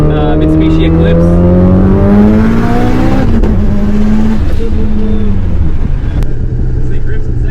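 A 1998 Mitsubishi Eclipse GSX with AWD and over 800 hp accelerates hard, its engine note climbing through the gears with a tire squeal, then cutting off abruptly. Loud and close, with a voice faintly underneath.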